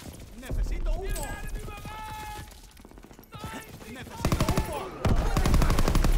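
Machine gun fire in the Call of Duty WW2 campaign, bursts of rapid rattling shots that grow louder toward the end, mixed with shouted game voices and other battle sounds.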